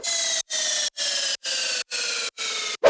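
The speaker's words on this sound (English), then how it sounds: "And some down lifters." Downward-sweeping down lifter effects in a future house track, six repeated whooshing bursts of equal length with brief gaps between them, loud and alone with no voices.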